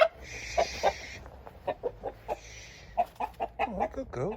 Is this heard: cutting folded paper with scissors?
no